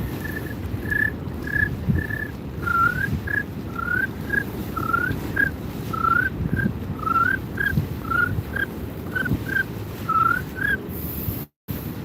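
A person whistles short, rising chirps imitating crickets to call fish while fishing, a steady string of about twenty evenly spaced chirps, moderately close, over a soft outdoor background hiss.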